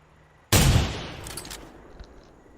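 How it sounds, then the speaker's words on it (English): A single loud gunshot blast from the video game theHunter: Primal, a sharp crack followed by a rumbling echo that decays over about two seconds, with no talking. "I heard the gunshots"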